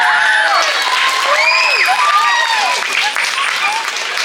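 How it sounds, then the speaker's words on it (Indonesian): Applause and cheering from the crowd at a Balinese Calonarang performance at Pura Dalem, loud and steady throughout, with voices calling out over it. "tepuk tangan"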